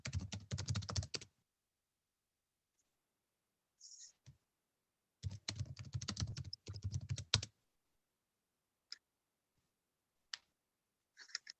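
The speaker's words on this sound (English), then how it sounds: "Try talking because I can hear you typing." A computer keyboard clatters in two quick bursts of fast, close typing, separated by quiet pauses with a few isolated key clicks.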